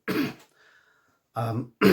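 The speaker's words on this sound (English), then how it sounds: "as you can tell, I've still got a cough" Close, raspy coughing, two or three harsh bursts with a short quiet pause between them.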